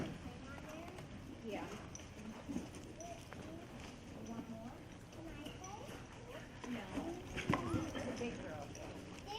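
Horse hooves stepping and shuffling on the ground in an uneven rhythm, with a voice talking in the background.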